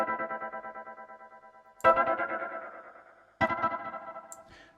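Reggae drum hits in Cubasis soaked in a dubby tape-style echo, with two sharp strikes whose repeats pulse and trail off rhythmically in a wash of delay and mild distortion.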